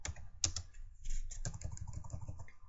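Fingers type on a computer keyboard in quick, uneven bursts of close, crisp key clicks, with short pauses between runs and no speech.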